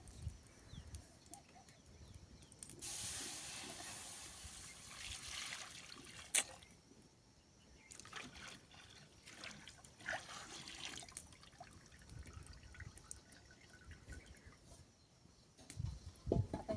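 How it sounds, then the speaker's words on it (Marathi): Buffalo milk pours and trickles into a pot in a few bursts, fairly quiet, with occasional knocks between pours. "हे आपल्या घरच्या म्हशीचं दूध आहे आता आपण हे ह्याच्यामध्ये ओतणार आहे"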